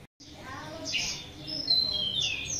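Cucak kinoy songbird singing at a bird kiosk, bright chirping and warbling phrases repeating over a steady low background hum, fairly close.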